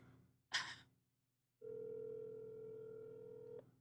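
A telephone call being placed to someone's dad: a short burst of noise, then a steady electronic phone tone holds for about two seconds before cutting off abruptly.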